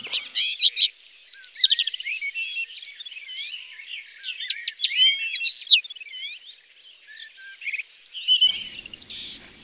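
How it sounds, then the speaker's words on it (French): Common linnets sing among gorse, broom and brambles in open scrubland in Côtes d'Armor, a steady run of bright twittering phrases from a few birds close by, with quieter chirps toward the end. "Ces linottes mélodieuses sont bien ici dans leur territoire."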